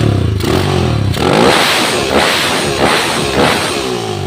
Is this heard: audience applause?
no